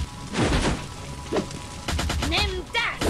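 Explosions go off in the LEGO Nexo Knights Merlok 2.0 video game, with a few loud, booming bursts in quick succession alongside short, voice-like game sounds.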